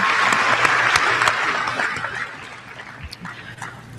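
A crowd at the WVU Tech 2018 commencement ceremony applauds for graduates and award nominees, many hands clapping in a dense, loud wash that gradually thins and softens.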